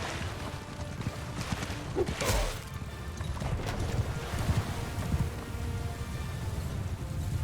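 Horses galloping as horse archers close in during a Mount & Blade II Bannerlord battle: faint, steady, distant hoofbeats under soft wind noise, with no talk.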